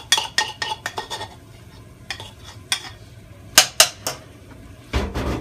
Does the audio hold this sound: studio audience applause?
no